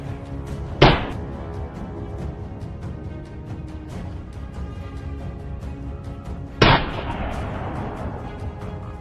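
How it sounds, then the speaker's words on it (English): Rifle gunshot fired from a mountaintop during a wild boar hunt, two sharp distant cracks several seconds apart, each with a short echoing decay over steady outdoor background noise. "A gunshot rang out."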